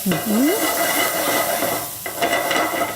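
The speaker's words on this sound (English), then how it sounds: "I'm going to saute this till it's a little bit translucent" Peppers sauté in a pan with a soft, even sizzle and faint stirring scrapes, heard up close. A brief whistling squeak sounds at the start, and no one speaks.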